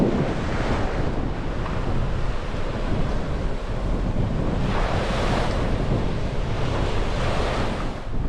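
Wind buffets the microphone on a beach while waves roll and break in a continuous roar, loud and steady throughout, with surges of surf and no voices.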